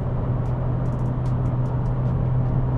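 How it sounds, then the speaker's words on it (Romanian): A Honda Civic's engine drones steadily inside the cabin while climbing a slope at speed, a constant low hum with faint road noise and a few soft ticks, with no talk. "zgomotul din interior este de la motor în mare parte"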